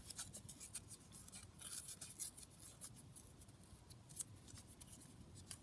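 Scissors snipping through paper for a paper snippet roll, a run of close, crisp cuts repeating unevenly at a quiet level with no talking.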